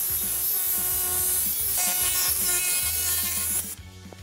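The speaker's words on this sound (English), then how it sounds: "today, my weapon of choice is the jigsaw" A jigsaw buzzes loudly through wood, its blade rasping in a fast steady rhythm before stopping abruptly near the end.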